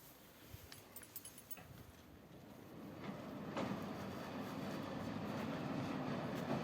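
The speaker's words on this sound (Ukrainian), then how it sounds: "брама автоматично зупиняється і від'їжджає назад" An automatic sliding louvered gate rolls along its track with a low, steady mechanical rumble that swells gradually, preceded by a few light clicks, running quietly on its own.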